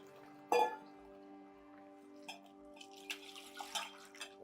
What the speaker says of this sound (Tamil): புளியை வந்து நல்லா கரைச்சி உள்ள ஊற்றிக்கோங்க.